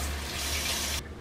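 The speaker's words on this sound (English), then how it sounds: "I filled the can up halfway with water, hot water, and I poured it in also." Hot water poured into a pan of canned cream of chicken soup, a steady close splashing gush of liquid that runs for about a second, then stops abruptly.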